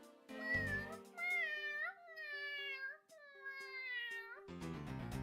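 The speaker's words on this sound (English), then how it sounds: "Noise suppression caught every single meow." A cat meows repeatedly in long, drawn-out, whining calls, close and clear, followed by a brief burst of other sound at the end.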